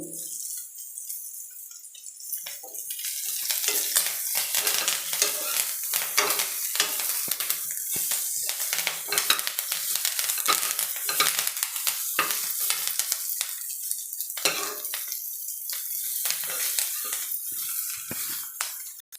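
Cauliflower frying with curry leaves and a little rice in a hot pan gives a loud, continuous crackling sizzle, broken by frequent spatula scrapes and clinks of stirring, quieter for the first couple of seconds before the frying builds.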